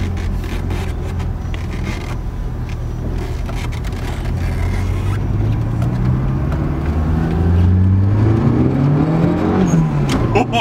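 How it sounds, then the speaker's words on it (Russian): Turbocharged Lada Niva accelerating, its engine droning loud and close from inside the cabin, then revving up with a rising whine and climbing pitch through the gears toward the end. "мы едем на турбо-Ниве"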